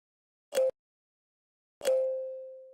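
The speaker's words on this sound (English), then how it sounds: "Then the glockenspiel, which is the heart and soul of this sound." Two isolated metallic glockenspiel tones against silence, pitched low around C1: a short clipped note, then a second bright note that rings out and slowly fades.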